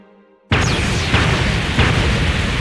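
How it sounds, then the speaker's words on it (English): Anime-style explosions from laser beams hitting battleships: after a brief hush, a loud, sustained roaring blast erupts, with repeated booming impacts layered through the continuous rumble. "Explosions are heard upon the impact of the beams."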